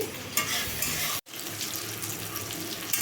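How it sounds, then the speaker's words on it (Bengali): Onions frying in oil in a pan, with a paste of green chilli, ginger, garlic and cumin, while preparing a fish curry: a steady, close sizzle that cuts out for a split second before resuming. "পেঁয়াজটা ভাজা ভাজা হয়ে গেছে"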